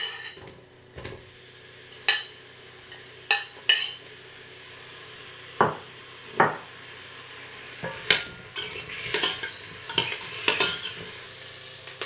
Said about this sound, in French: Je vais faire revenir les oignons en premier lieu.